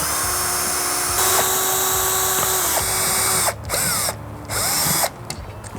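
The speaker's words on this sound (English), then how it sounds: "We're going to save some time now and use a power drill" A handheld power drill tightening the fittings on motorcycle bags, whirring loudly in short bursts that speed up and slow down, close by, with abrupt stops between runs near the end.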